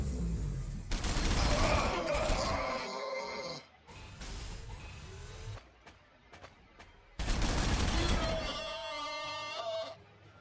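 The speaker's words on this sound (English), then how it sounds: "So the artillery hit us and did some damage" Artillery shells slam into units in the video game Warhammer 40,000: Sanctus Reach, in two loud, dense barrages of booming blasts and crackling impacts with a quieter rumbling stretch between them.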